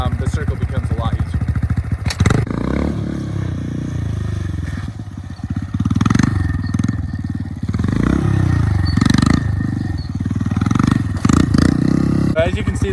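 A motorcycle engine roars loudly and close by through a wheelie circle, rising and dropping repeatedly as the clutch is slipped, with some clattering and scraping mixed in.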